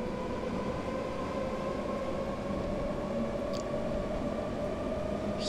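Inside a BR 420 regional electric train in Train Simulator 2018, the Köln Airport rail link, accelerating toward 120 km/h: a steady loud rolling rumble with a constant motor whine running throughout.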